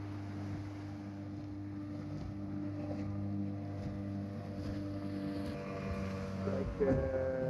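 Motorboats idle and rumble at sea ahead of a boat race, a steady low engine drone with layered tonal hum under gusting wind noise on the microphone, swelling briefly near the end.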